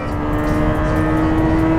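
Lamborghini Temerario turbocharged engine revving hard to 10,000 rpm on a race track, a loud, close, sustained high-pitched wail that lasts the whole brief moment.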